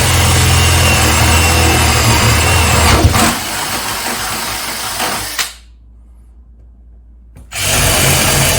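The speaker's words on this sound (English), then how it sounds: "So let's go ahead and get these 2 holes here drilled." A power drill bores two holes for PEX plumbing through a bathroom vanity cabinet below the sink, running loud and steady, then stopping abruptly into silence before starting up again.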